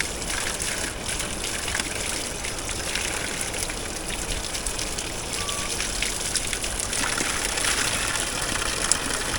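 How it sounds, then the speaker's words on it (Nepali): Water gushes and splashes steadily from a carved stone spout in a Gorkha village, Nepal, a constant close rushing stream with no voices. "कस्तो मजाको यो डोईको मुखबाट पानी झरेको छ यहाँनिर"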